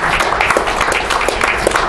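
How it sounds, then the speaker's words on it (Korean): Audience at an international diplomacy and security forum breaking into steady applause, dense and fairly loud, with many hands clapping together for two seconds and no talking over it. "여러분들 찬성하시면은 박수로 한번 부탁드립니다."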